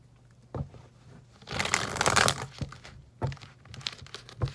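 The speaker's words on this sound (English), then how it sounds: "One more shuffle." Tarot cards riffle and crinkle up close in a brief flurry, with soft taps and thumps before and after the main shuffle.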